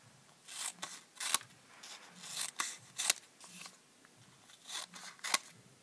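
Scissors snip through a thick stack of paper cards cut all at once, a run of crisp, close cutting strokes with short pauses between them, no voice over it.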